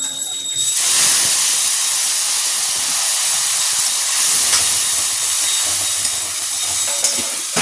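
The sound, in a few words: spices, tomato and green chili added to hot oil sizzling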